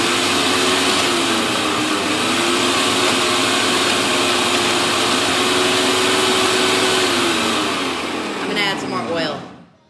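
A blender whirs loudly and steadily while blending a spicy cheddar smoky carrot and roasted onion dip, holding a strained motor pitch before winding down at the end.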